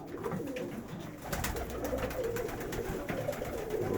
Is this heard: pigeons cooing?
yes